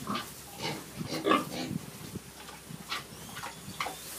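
Pigs on a livestock farm in Guyana grunt in a few short, soft bursts spread over several seconds, with faint farmyard background noise between them.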